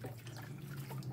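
Water trickles and splashes softly where a child is playing in it, a faint, steady wash over a low background hum.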